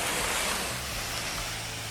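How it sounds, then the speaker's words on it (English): Steady broadband rush of a waterfall seen through big trees on a forest trail near Sequim while camping, a loud, continuous roar with no distinct events and no talking. "here's our first peek of the falls"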